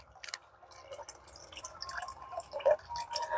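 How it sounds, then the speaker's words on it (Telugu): Water is poured into a container of liquid fertilizer mix, giving a faint, close trickle with scattered drips and splashes. "మిగతాది మొత్తం ఈ వాటర్ పడతాను అనమాట"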